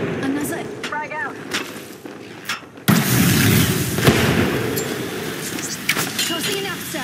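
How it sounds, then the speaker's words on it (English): A frag grenade explodes in a video game: a sudden loud broadband blast about halfway through, followed by a sustained rumbling roar with more crackling hits, and game voice lines are heard before it. "Tossing a grenade."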